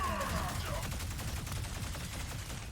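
Heavy gunfire from big guns in Ratchet & Clank: Rift Apart, rapid overlapping shots and blasts forming a loud continuous barrage with game sounds mixed in.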